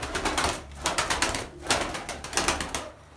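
Pigeons kept in a rooftop loft coo in repeated soft throaty bursts, fairly close, with brief pauses between phrases and a low hum underneath.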